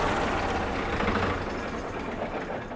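A 2019 Swaraj 963 tractor engine runs close by, a dense, loud, steady rumbling drone with no talk over it.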